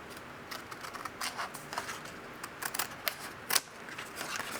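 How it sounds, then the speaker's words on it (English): Scissors snip a paper folding template, a quick series of close, crisp cutting clicks with one sharper snip near the end, no talking. "So I'm going to take this piece off right now. I can just snip that off."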